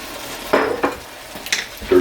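Pre-cooked shrimp go into a pan of vermicelli noodles, giving a few short sizzles and scraping stirs with brief clinks of a utensil against the pan, close and fairly loud.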